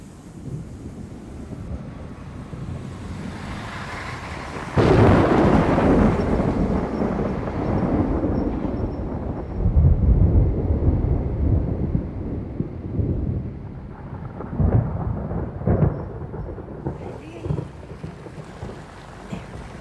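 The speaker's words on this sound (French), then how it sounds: "La tempête se rapproche." Thunder rumbles and rolls in long low swells as a storm approaches, mixed with wind gusts buffeting the microphone, with no talking.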